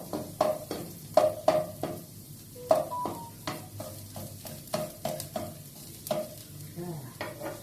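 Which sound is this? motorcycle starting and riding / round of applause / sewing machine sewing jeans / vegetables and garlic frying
vegetables and garlic frying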